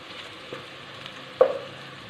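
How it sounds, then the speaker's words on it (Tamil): Onions sautéing in a pan for chicken biryani give a low, even sizzle with a few light scrapes and one sharper clatter of a spoon midway, quiet and close with no talking. "இப்போ வெங்காயம் நல்லா வதங்கிட்டு இந்த சிக்கன் பிரியாணிக்கு வந்து வெங்காயம் நல்லா வதங்கணும்"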